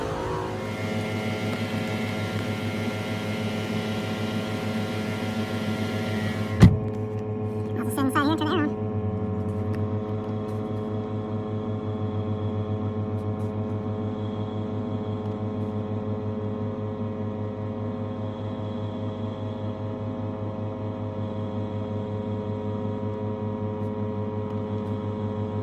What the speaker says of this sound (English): So now I got the compressor hooked up to the gauge.